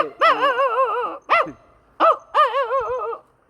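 A person imitates a dog up close in four bursts, long wavering howl-like barks mixed with short yelps and gaps of silence.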